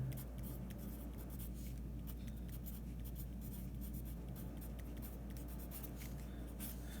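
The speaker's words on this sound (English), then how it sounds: "So, so I'll just write a quick note here." Pen or marker scratching out a quick note during a physics lecture on elastic and inelastic collisions, a soft continuous scribbling over steady room hum with no talking.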